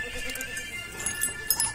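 Goats bleat at a goat shed gate, several short wavering calls heard at moderate distance in a fairly quiet setting.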